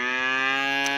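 A newborn calf gives one sustained, close, loud moo with rich harmonics at night on a farm, heard alone without talking.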